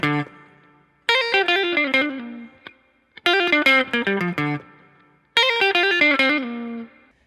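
Guitar riff from a song played three times, each phrase a bright run of plucked notes with a pull-off, ringing out with effects and pausing between repeats, alone without talk.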